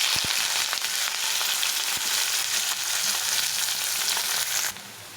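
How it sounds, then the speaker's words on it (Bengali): Sliced onion hits hot oil already sizzling with cumin seeds and dried red chillies, giving a steady loud frying hiss with faint stirring clicks, easing off slightly at the end; no talking. "জিরে আর শুকনো লঙ্কা একটু ভাজা ভাজা হয়ে গেছে। এখন দিয়ে দেবো এর মধ্যে পেঁয়াজটা।"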